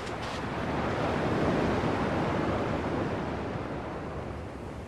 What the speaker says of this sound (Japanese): 波の音だけは同じだな。